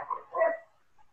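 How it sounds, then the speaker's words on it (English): A couple of quick dog barks ring out in close succession from a short distance, fairly clear, followed by a faint trailing yelp, with no one talking over them. "Sorry, there's some dogs"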